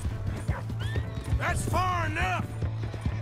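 In a video game, a horse whinnies loudly with a long, wavering neigh while hooves clip-clop rhythmically beneath it, and characters shout over the action.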